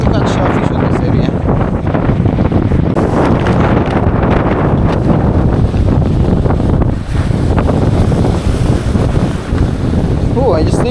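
Strong wind buffets the microphone on a beach, a loud, constant roaring rumble for the full stretch with surf blended underneath, no distinct voices breaking through.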